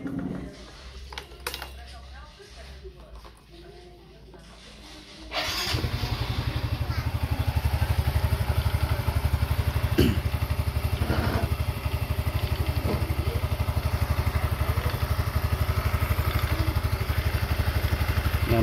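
A Yamaha Mio 125 scooter engine cranks and starts after a few seconds of quiet handling sounds, then settles into a steady, close, rattly idle that continues to the end, with a voice speaking briefly over it.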